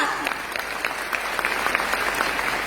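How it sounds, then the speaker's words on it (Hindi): Audience at a company recognition event gives a loud round of applause for Mamchand sir, dense steady clapping filling the whole stretch with scattered sharper claps. "मैं चाहूंगी सबसे पहले मामचंद सर के लिए एक बार जोरदार तालियां होनी चाहिए।"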